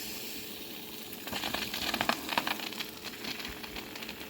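Water hissing and spraying through the rusty water ports of a 1962 Ford Falcon cylinder head after a vinegar soak, a steady close rush that grows rougher and splashier midway.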